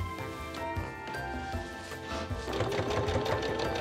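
A sewing machine runs steadily, zigzag stitching the leg seams of a costume, its needle whirring in a close, continuous mechanical hum.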